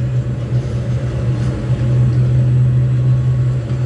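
Locomotive rolling under throttle in Train Sim World, a steady low engine drone with a strong constant hum throughout, swelling slightly louder partway through, no voices.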